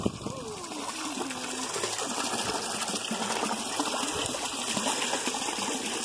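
Water rushes steadily through a homemade gold sluice outdoors, a continuous loud gushing flow with no pauses, and a faint thump at the very start.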